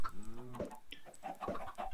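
Several chickens cluck in a farming video game just after hatching from one egg, a run of close, bright clucks and short squawks that rise and fall over about two seconds with no talking.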